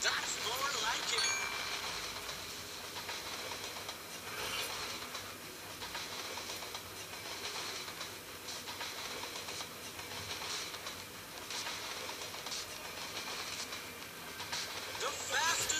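A train running, heard as a faint, steady rolling rumble with bright rattling and clatter throughout, a hint of a ding near the start, and a voice talking at times over it.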